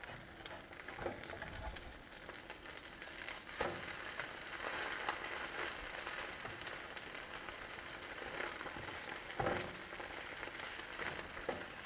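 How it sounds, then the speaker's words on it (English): Spicy fried egg sizzling in a pan as a spatula flips it, a constant close crackling fry with a few louder scraping bursts from the spatula, no talk. "Now flip the egg using a spatula ."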